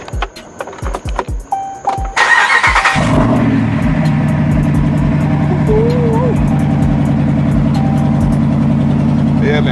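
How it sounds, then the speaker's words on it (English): A Ram 1500 pickup truck cold-starts with a few clicks and a short starter crank, then the engine catches and roars loudly before settling into a steady, close, rumbling idle that carries on to the end. "let's get this cold start. Let's get this cold start going"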